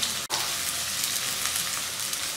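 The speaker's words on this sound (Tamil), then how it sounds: "இது நல்லா ஒரு 2 நிமிஷம் இப்படியே வதக்கிக்கலாங்க." Onions sizzle steadily in a hot pan, a constant crackling hiss with no voices.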